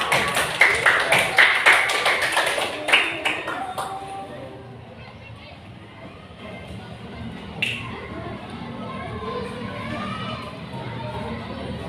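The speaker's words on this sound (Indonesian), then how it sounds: "Tepuk tangan buat yang mau bertanya." Classroom applause from elementary school students during a debate breaks out in a burst of claps and snaps, then fades into murmuring and chatter from the room.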